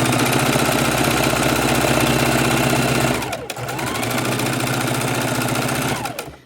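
A sewing machine stitching a wallet keychain purse runs in a loud, steady mechanical whir with a rapid needle rhythm, halts briefly partway through, starts again, and stops once more near the end.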